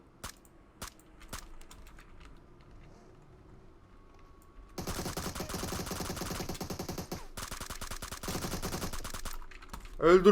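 Bursts of automatic gunfire in PUBG Mobile on the Miramar map, loud rapid crackling volleys after a few sparse single shots, with a person talking faintly over the game sound.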